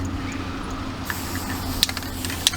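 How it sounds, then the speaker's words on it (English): A spray can nozzle gives a brief hissing spray onto a quilt outdoors, a quick soft burst followed by a few small clicks and faint handling noises. "then I do a quick spray, and I'm holding the nozzle down."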